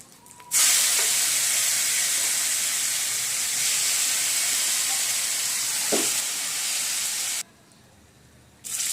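Washed dried prawns fry in hot oil with a loud, steady broadband sizzle that runs for most of the stretch, briefly dropping away near the end before rising again; no one speaks.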